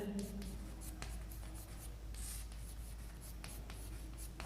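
Chalk or marker strokes on a board in a chemistry classroom, a series of short scratchy rubbing sounds in an uneven rhythm, quiet and close over a low background hum.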